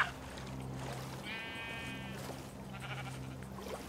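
Sheep bleating in the Minecraft Story Mode video game, one short nasal bleat heard in the middle over a steady bed of game music and ambient noise.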